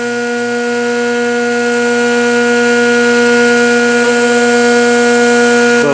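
A mini magnetic window motor spins at about 14,000 RPM, giving a loud, steady high-pitched whine with stacked tonal harmonics, gradually swelling slightly in level and holding constant with no talking.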